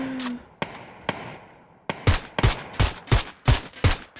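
Gunfire in the PUBG battle royale game: a few sparse single shots early on, then a rapid run of loud, sharp reports in quick rhythm, close by, with faint game ambience between them.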